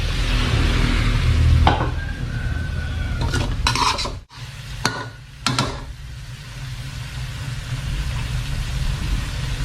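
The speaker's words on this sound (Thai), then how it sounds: "เราจะ ทำผัดกะเพราเราให้เป็นแบบแห้งๆเลยฮะ" Thai holy basil stir-fry (pad krapao) being stirred in a pan over medium heat, with a steady low sizzle throughout and a few scraping and clattering strokes of the utensil near the middle.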